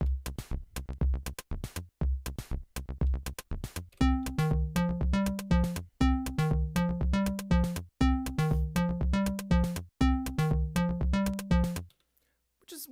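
A Korg Volca FM synthesizer sequence plays alone, starting with sparse plucky hits and building to a repeating melodic pattern over a steady bass pulse, then stopping abruptly.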